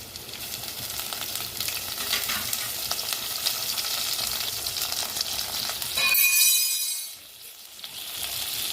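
Tempering spices, onions and curry leaves frying in a pan for banana flower curry, a dense crackling sizzle with stirring, close and loud, then a brief bright burst before the sizzle briefly drops and resumes.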